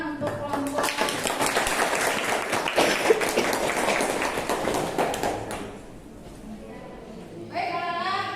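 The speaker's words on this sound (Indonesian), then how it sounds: "tepuk tangan untuk kelompok" Applause for a student group in a vocational high school maths classroom, a dense sustained patter of many hands clapping for about five seconds, then tapering off to quiet with a brief burst of talk near the end.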